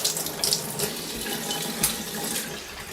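Warm water swilled around and poured out of a portable paint sprayer, a close splashing gush with bright gurgles that runs continuously, no voices.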